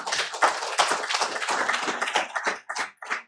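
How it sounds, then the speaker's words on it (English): Applause for school staff at a school board meeting: a crowd claps steadily and densely for a few seconds, then thins into scattered claps as it dies down. "let's give another round of applause to Rachel Powell and Amber Leewood"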